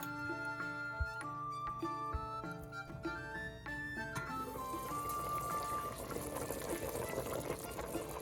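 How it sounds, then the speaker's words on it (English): A medieval cabbage stew with beef bones simmering in a pot, with soft bubbling and gurgling liquid under a melodic tone that fades into a steady bubbling hiss. "It's supposed to simmer for another 10 minutes"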